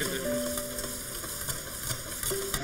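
Stinky tofu fries in a pan in a volunteer kitchen helping earthquake victims, giving a steady, close sizzle with faint stirring and no talking.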